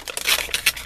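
Paper bag being cut with scissors, a short run of crisp crinkling and snipping bursts with a couple of louder rustles, close and alone.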